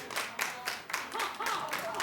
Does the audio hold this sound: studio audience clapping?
yes